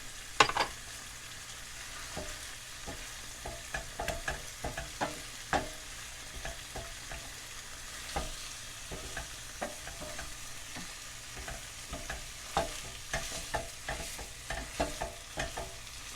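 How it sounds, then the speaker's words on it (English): Ground beef cooks down in a pan with onion and flour for shepherd's pie: a soft, steady sizzle under frequent sharp clicks and scrapes of a utensil stirring, close but fairly quiet, with no speech. "So I'm gonna let this meat cook down some"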